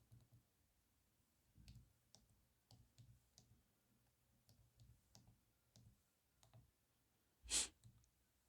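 Buttons on an HP calculator are pressed one at a time, giving soft, close, irregular clicks in a quiet room, then one sharper louder tap near the end.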